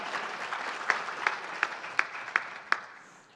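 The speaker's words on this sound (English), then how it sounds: "give a round of applause for the dynamic Dr. Dijak" Audience applause for Dr. Dijak at a conference session, a soft wash of clapping with a few sharp, evenly spaced louder claps standing out near the microphone, tapering off at the end.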